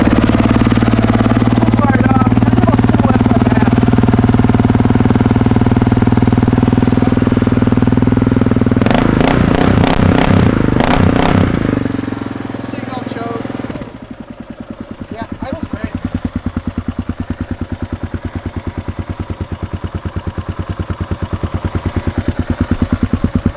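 Carbureted Kawasaki KLR 650 motorcycle engine turning over and settling into a steady, throbbing idle after a brief burst of revving, loud and close, with speech heard over the engine early on.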